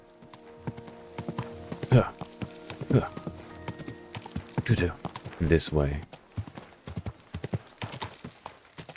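Horse hooves clip-clopping on the ground in Kingdom Come Deliverance 2, a steady rhythm of close, fairly loud steps with a few louder accents, heard under someone talking.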